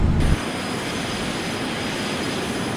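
Airplane engines roar steadily at takeoff in the FSX flight simulator, flying from Dodge City Regional toward Camilo Daza International, with a brief louder burst at the start and then a constant droning rumble with no voices.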